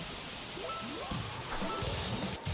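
Steady rain hisses in a Super Monkey Ball level over a low rumbling backdrop, with scattered gliding tones running under the downpour.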